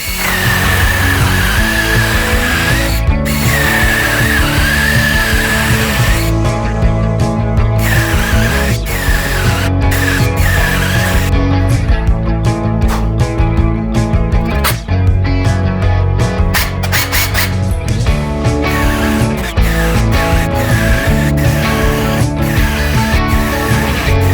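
A Sequoia SBC2004M-QV cordless mini chainsaw cuts through wood, its motor a loud, continuous whine that rises and falls as the chain bites, with sharp breaks between cuts over about twenty seconds.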